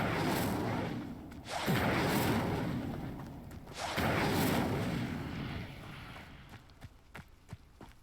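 Two roaring, whooshing bursts of flame from the Incendio fire spell in Hogwarts Legacy, each swelling loudly and fading, followed by a few soft footsteps.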